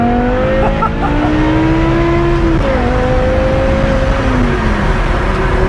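BMW M6 with a V10 engine and F1-style exhaust revs and shifts from inside the cabin, a loud, steady, rising and falling engine note with a gear change partway, under occasional talk.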